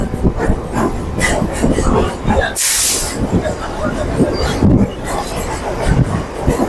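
A Kolkata local train departing Remount Road station, rumbling and clattering nearby with a brief hiss of air, while people talk over it.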